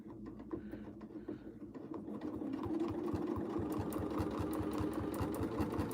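Sewing machine running steadily through free motion quilting on a lightweight fused quilt top, a rapid even stitching rhythm that builds slightly and holds close and loud throughout.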